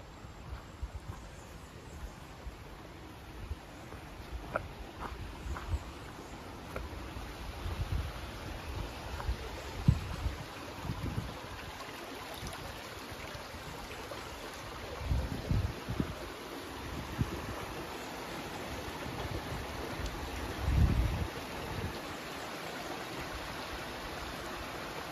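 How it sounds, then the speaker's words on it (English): A river flows steadily in the Kalinago Territory of Dominica, a broad continuous rush with rustling and occasional low thumps from footsteps or handling nearby. "I'm just gonna check out the river."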